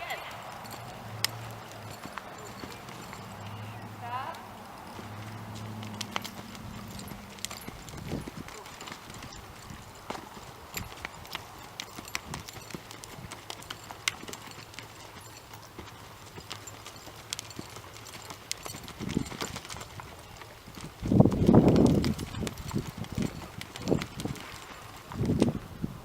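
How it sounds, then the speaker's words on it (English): A horse loping in a riding demonstration, its hoofbeats a soft, steady clip-clop close by. A heavier burst of hoof impacts comes near the end, with some low background rumble. "We're going to pivot like that, and then we'll lope off to our next spot."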